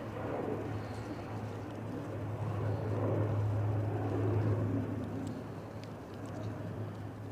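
An ATR turboprop aircraft at Manchester Airport on a stormy day gives a steady, droning propeller roar with a low humming tone, swelling gently and sustained throughout at moderate distance.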